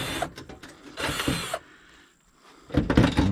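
A ratchet wrench with a deep socket turns a bolt on a Maytag dryer, giving two bursts of rapid clicking separated by a quiet pause, close and fairly loud.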